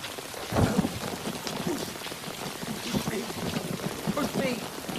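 Steady rain falls outdoors with a soft broadband hiss and scattered drops, while people speak over it and a heavier thump lands near the start.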